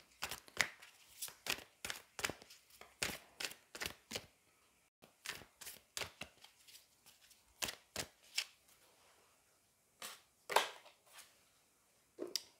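Angel oracle cards are shuffled and drawn, making a long run of crisp, close riffling snaps and flicks in quick uneven bursts, with one short pause partway through.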